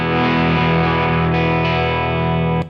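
Electric guitar played clean through a Crazy Tube Circuits booster pedal, a sustained ringing chord held steadily for a few seconds with no talking.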